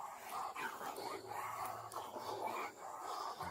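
A police dog at an arrest scene whimpering and giving short yips and barks, fairly faint and a little distant, over background noise with no clear speech.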